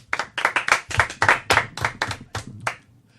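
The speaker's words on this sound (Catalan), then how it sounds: "Bona nit, Kevin, un aplaudiment." A television studio audience claps in a quick, even rhythm to thank a guest: about a dozen crisp, close hand claps in a row that stop abruptly near the end.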